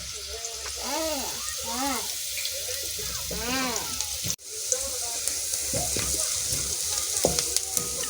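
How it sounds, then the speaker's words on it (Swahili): Onions sizzle steadily in a frying pan while a dish of arrowroots (nduma) is prepared for a baby, a constant close hiss with a voice rising and falling over it. "Kaanga kitunguu tu kama venye unakaanga yako."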